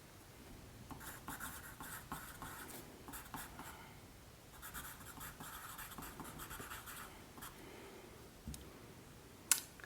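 Pencil cross hatching on paper, a quiet, steady scratching of quick repeated strokes in bursts with short pauses, close and faint.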